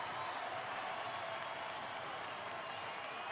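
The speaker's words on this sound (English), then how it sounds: "the big crowd, they're up and at him." A large crowd at a baseball stadium cheering and applauding with two outs in the ninth inning, a dense continuous roar at steady loudness with no breaks.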